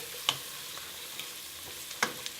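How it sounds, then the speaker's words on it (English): Onions, garlic and herbs frying in a pan over medium to high heat, a steady close sizzle broken by two sharp scrapes of a spoon stirring, no voices. "Now to this I'm going to add my garlic and all those herbs. Give that a good stir."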